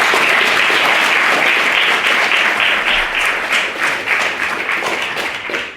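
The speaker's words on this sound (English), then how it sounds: "Give him a big round of applause." An audience at a student debate claps in dense, continuous applause that stays loud for several seconds, then thins slightly and fades toward the end.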